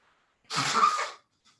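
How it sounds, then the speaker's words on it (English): A single sneeze during a morning yoga session, one sharp close burst of about seven-tenths of a second, with near silence before and after and a faint breath following. "Oh, I'm gonna sneeze."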